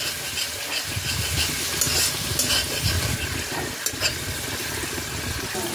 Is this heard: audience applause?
no